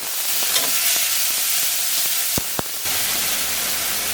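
Tomato paste hitting hot oil with dried chilli, cumin, cardamom and asafoetida for a raw papaya and dal curry, giving a loud, steady hiss and sizzle throughout with a few sharp utensil clicks near the middle.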